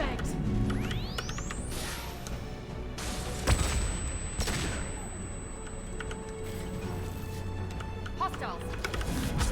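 Flashbang blasts and gunfire crash through a Mass Effect 2 firefight, with sharp bursts and booms over a rushing, whooshing bed of game effects and a sustained high tone, while characters call out between the impacts.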